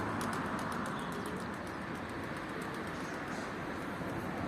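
Pigeons or doves cooing softly over a steady broadband background hum, with faint repeated high chirps scattered through.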